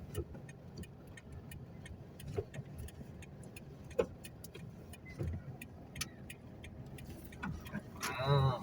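A car drives along a road near the Phra That Phanom festival grounds, a steady engine and road rumble inside the cabin with small ticking clicks and a brief rattle near the end.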